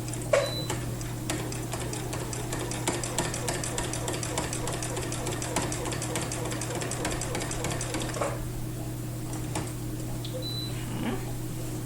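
A sewing machine free-motion quilts in the ditch with a steady, close, rapid needle chatter over a low motor hum, then pauses near the end, leaving the hum alone.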